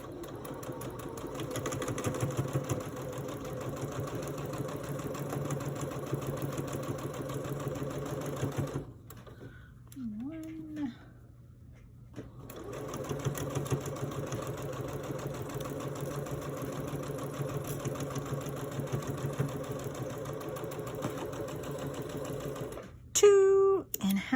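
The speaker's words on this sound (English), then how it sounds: "we will quickly sew these together." A sewing machine stitching quilt pieces together, its steady loud mechanical whir running for long stretches, pausing briefly in the middle and near the end, while a person talks over it.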